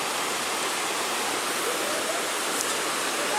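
Steady broadband roar of a waterfall at Pata-an Waterfalls Mountain Resort on Negros Island, a constant rushing wash of falling water with no breaks, fairly close and even in level throughout.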